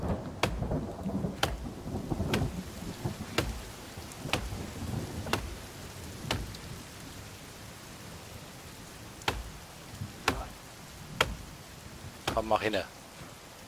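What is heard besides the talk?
rain and thunder in The Forest video game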